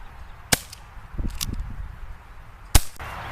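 An EliteForce CQB airsoft revolver fires two sharp, close cracks about two seconds apart on a target range, with faint handling noises between them.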